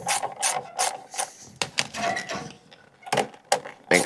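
A hose clamp on a Mow-N-Vac vacuum hose being tightened, a series of sharp ratcheting clicks and mechanical clacks in irregular bursts, close and fairly loud with short pauses between turns.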